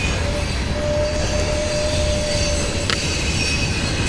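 A passing train rumbles loudly while a thin, sustained metallic squeal from the wheels rings over it, with a brief sharper screech near the end.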